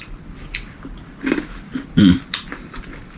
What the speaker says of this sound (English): Listen to the crunch of those croutons.